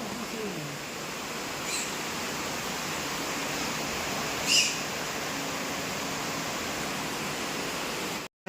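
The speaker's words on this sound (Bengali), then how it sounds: "বাইরে অজস্র বৃষ্টি পড়ছে।" Heavy rain falls outside in a dense, even hiss that holds steady throughout, with one brief click partway through.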